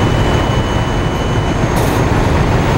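A Karl Suss MA6 mask aligner runs its UV exposure, giving off a steady, loud, broadband mechanical hum and whir that holds unchanged throughout with no talking.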